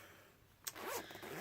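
A zipper on the small front pouch of a quilted, padded needle case is pulled once, a short rasping zip that starts with a click and runs for under a second, close and fairly quiet.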